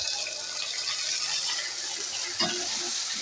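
Spice paste of chili powder, turmeric, cumin and ginger paste is poured into frying potatoes and stirred, making a steady close hiss of sizzling oil with a wet splat and scrape near the end, with no talk.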